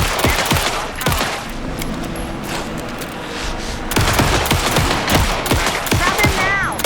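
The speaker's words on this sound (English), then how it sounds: "Anderson, pin him down with gunfire so he gets light." Rapid bursts of automatic gunfire crackle through a tense firefight in the video game Alan Wake 2, dense volleys with brief gaps, partly under shouted voices.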